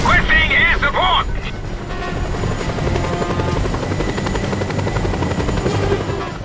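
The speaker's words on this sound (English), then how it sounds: "Helicopter coming in, which is good, especially since it's currently above me." Helicopter in Just Cause 2 hovering close overhead, a loud continuous rotor roar and whine throughout, with a brief electronic chirp at the start.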